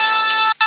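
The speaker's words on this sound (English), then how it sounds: "my phone's ringing." A mobile phone ringtone plays loud and close as a sustained, bright electronic tone with a brief gap of silence near the end, alone without talk.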